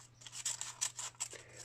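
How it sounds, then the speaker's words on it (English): Scissors cut down the middle of a paper Mobius strip in quiet, rhythmic snips, about half a dozen crisp crunching cuts close by. "scissors in there, and once again we chop all the way"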